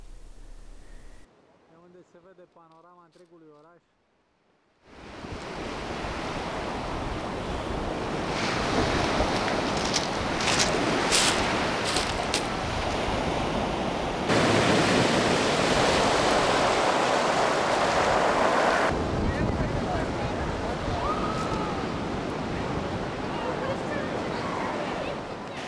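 Sea surf washing onto a town beach below steps on a winter day, a steady broad roar of breaking waves with wind buffeting the microphone, after a brief quiet passage with a short tonal snatch at the start.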